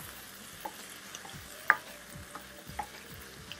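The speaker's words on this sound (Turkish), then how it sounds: "Hızlı bir şekilde karıştırıyorum." A spoon scrapes and taps in a pan as butter sizzles steadily, with a few sharp clinks spread over a few seconds.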